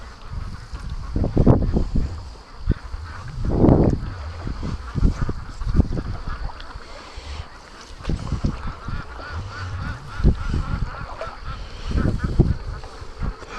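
Ducks on a lake calling repeatedly at a moderate distance, quacks and honk-like calls arriving in irregular bursts over a light outdoor breeze, with no talking.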